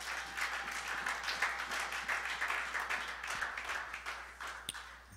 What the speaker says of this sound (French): On peut acclamer notre Dieu.